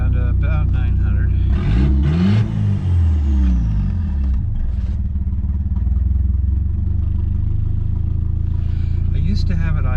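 A 1986 Mitsubishi Starion engine idles with a steady low rumble, broken by a brief rising and falling rev sweep early on, while a person talks over it nearby.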